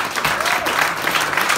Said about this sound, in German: aber nochmal großen Applaus